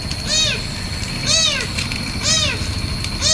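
A kitten meows four times in a steady, evenly spaced rhythm, each call a clear rising-and-falling cry close by, over a constant low background rumble.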